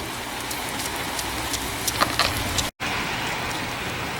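Steady rain from the back end of a storm falls in a continuous hiss, with scattered drops pattering nearby and a brief dropout near the end.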